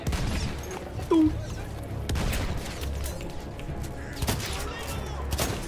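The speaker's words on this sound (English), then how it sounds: "Quick, run toward the machine gun." Rapid gunfire from a World War I shooter game at Cape Helles, bursts and scattered shots mixed with booms across the battlefield, moderately loud and continuous, with a brief tonal game sound partway through.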